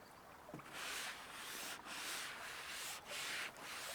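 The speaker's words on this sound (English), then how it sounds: "I need to wet down my paper on both sides with this sponge." A sponge wiped across sheets of watercolor paper, wetting both sides to make them lie flat on a board: steady, broad rubbing swishes in long repeated strokes with brief pauses between passes, close and fairly quiet, with no talking.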